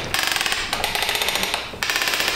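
A historic sawmill carriage setworks at an abandoned mill advancing a log, rapid regular metallic clicks in three quick bursts over a steady mechanical rumble, close and loud.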